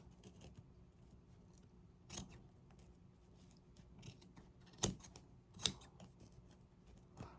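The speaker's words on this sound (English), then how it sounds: "I'm putting the scissors in the groove that I made of the line" In a quiet room, scissors make a few faint cuts, with two crisp snips standing out near the end.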